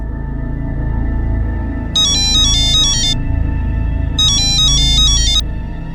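Electronic phone ringtone for an incoming call, two bursts of bright repeating melodic beeps separated by a pause, loud and close over a steady low background hum, no talking.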